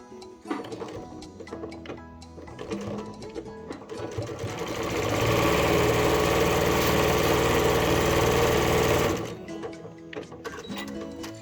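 A sewing machine back stitching a fabric iPad or book pouch, its rapid needle chatter running steady and loud, with a sustained full-speed burst in the middle and shorter start-stop runs on either side.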